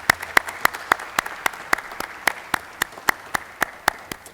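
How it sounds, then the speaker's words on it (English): Applause at a plaque unveiling ceremony marking the 65th anniversary of the desegregation of Oak Ridge schools, heard as thin, sparse clapping with a steady rhythm of distinct sharp claps, close and fairly quiet. "One more round of applause, please."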